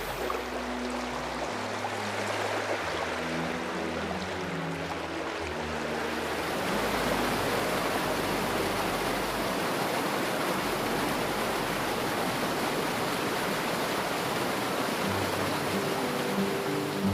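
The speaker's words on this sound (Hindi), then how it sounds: "नदी अपने रौद्र रूप में, मतलब इतनी तेज बहाव है" A swollen monsoon river near Mana village by Badrinath rushes in full flow, a steady, loud, broadband roar of churning water that fills the whole stretch without a break.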